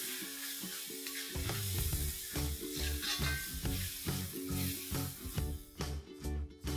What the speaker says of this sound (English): Just going to saute this for a few seconds.